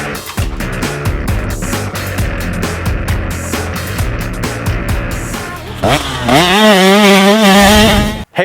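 A Yamaha YZ250 two-stroke dirt bike from a fresh build starts and runs, its engine revving loud and close with rising and falling pitch through the last seconds.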